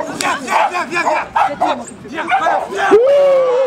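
A dog barks in sharp bursts during an agility run at a dog sport competition, loud and close, mixed with crowd noise and voices throughout.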